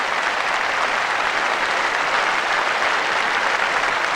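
Sustained applause from a crowd at a lawn bowls match, dense and even clapping throughout with no talking.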